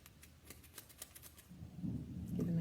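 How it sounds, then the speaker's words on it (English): Scissors trimming a craft fringe, a quick run of faint, close snips at an uneven pace, followed by a soft rustle and low handling noise. "I'm going to trim it just a little bit."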